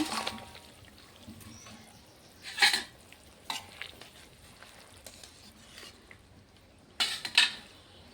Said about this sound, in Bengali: এখন ভেজে রাখা মাছগুলো দিয়ে দেব।